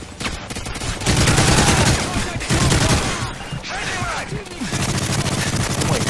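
Rapid bursts of gunfire from the Modern Warfare 3 Survival video game crackle almost continuously, loud and dense, with players talking over the shooting.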